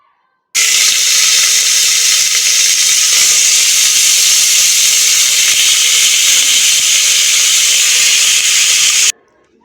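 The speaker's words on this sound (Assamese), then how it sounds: "এয়া কুকাৰটো গৰম হৈ গ'ল, আৰু এতিয়া মই ইয়াত মাংসখিনি দি দিছোঁ অলপ অলপকৈ।" Pork pieces are dropped bit by bit into a hot pressure cooker. A loud, continuous hiss of sizzling starts abruptly, holds steady for about nine seconds without voices, then cuts off.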